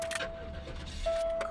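A car, an Aurora being reconditioned, turns over on a second start attempt, with a faint cranking engine, a rattle of keys and a steady warning chime ringing close by, while someone talks quietly.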